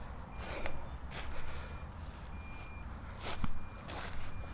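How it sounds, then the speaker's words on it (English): Faint, distant electronic beeping from a crashed DJI Neo drone's locator repeats intermittently against rustling outdoor noise in trees and a few crunching footsteps. "I've activated Find My Drone, and it should be beeping and flashing somewhere"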